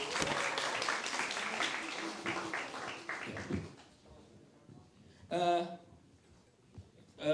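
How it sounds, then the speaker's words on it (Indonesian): Sunday Mother's Day church congregation gives a brief round of clapping for three children, fairly loud at first then thinning out, followed by quieter room noise and a short burst of voice. "Yuk kasih tepuk tangan dulu untuk mereka bertiga."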